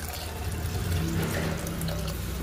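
Hot water being poured into a cooking pot of rice in a home kitchen, a steady splashing pour with a low rumble, close and continuous without speech.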